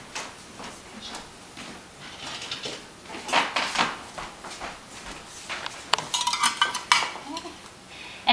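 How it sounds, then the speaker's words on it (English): Dishes and utensils clatter and scrape while Caribbean jerk chicken burritos with melted cheese are plated, a busy run of irregular knocks and clinks that grows denser toward the end, close by with no speech. "We're gonna plate it up right here."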